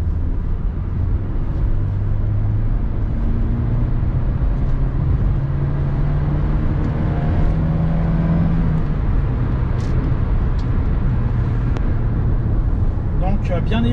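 Inside a 1999 Renault Mégane coupé with a 1.6-litre 90 hp engine, the engine drones and rises in pitch as it accelerates, with steady road noise and some talking over it.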